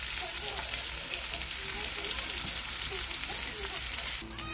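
Chicken pieces brown in a hot pan with garlic and oregano, a steady dense sizzle with faint scraping at a close distance and no talk.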